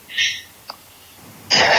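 A single sharp sneeze during an indoor interview, heard close and fairly loud, followed moments later by a brief burst of breath noise.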